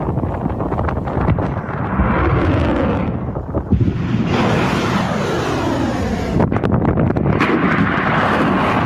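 A precision strike missile launch in news footage produces a loud, sustained blasting roar with sharp bursts and wind buffeting, close and dominant with no voices.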